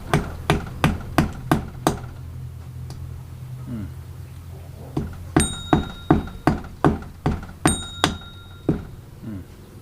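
Sharp hammer blows strike a tree trunk in two bursts of rapid, evenly spaced knocks, separated by a brief pause, ringing slightly on each hit.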